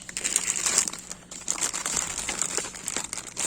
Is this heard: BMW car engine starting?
no